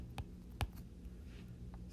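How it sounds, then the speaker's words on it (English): Apple Pencil tips tapping on a tablet screen: two or three sharp, dry clicks, the clearest just after half a second, close and fairly quiet over a faint room hush. "the tapping noise with the Apple Pencil"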